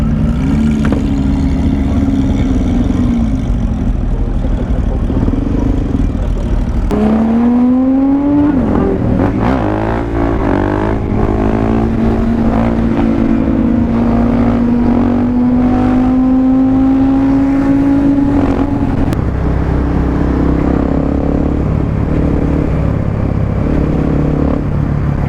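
A Ferrari sports car engine revs and drives past at a sunset GT event, its loud whine climbing through gears, dropping and rising again over a steady rumble of other engines nearby.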